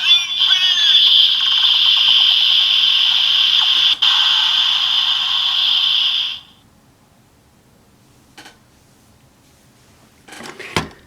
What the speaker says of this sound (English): you have both the standby sounds from the belt and the RabbitTank sparkling going on at the same time